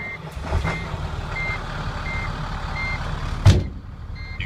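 A 2008 International TerraStar crew cab truck with a MaxForce engine and automatic transmission idles steadily nearby, with regular reversing beeps and a brief loud clunk near the end.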